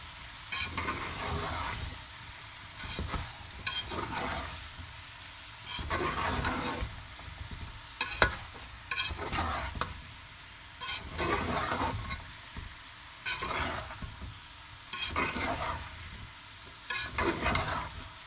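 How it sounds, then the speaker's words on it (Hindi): Pumpkin being stirred into a sizzling home-style chicken curry in a pan, a steady frying hiss broken by repeated scraping stirs that come in rhythmic bursts, close up, with no talking. "और इन्हें भी सालन के साथ मिक्स कर लेते हैं।"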